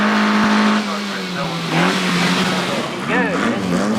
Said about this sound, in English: Mike White's self-built MG Special is based on an MGB engine and running gear